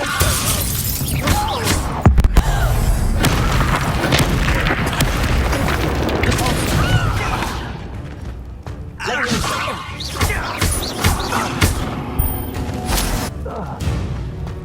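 Incendio fire spell blasting during a fight against a Rookwood in the Hogwarts Legacy video game: loud, dense bursts of crackling, shattering impacts and booming thuds that continue throughout, with a thinner spell of sound near the end.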